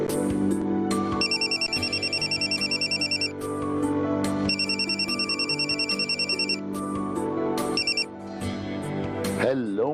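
A mobile phone ringtone plays for an incoming call, a repeating electronic melody pulsing in bursts over background music, fairly close and steady.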